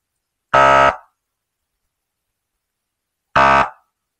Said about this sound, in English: the electronic air horn.